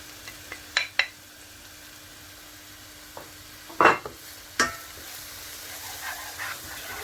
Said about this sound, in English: Gonna mix this up and then let these spices really cook off.